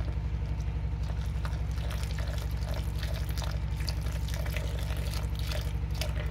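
Water is poured steadily into a pot while making homemade kutsinta, a continuous splashing stream over a strong, steady low hum that lasts the whole clip.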